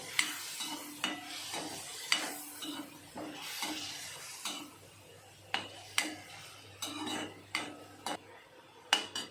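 Vegetable gravy with tondli frying in a pan, a quiet sizzle under irregular stirring scrapes and spoon clinks against the pan.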